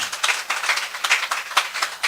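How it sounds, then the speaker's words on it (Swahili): An audience claps in scattered, uneven rounds. It is a run of sharp hand claps rather than one unified clap, moderately near, with no speech over it. "So when I say help me invite, you give me one clap."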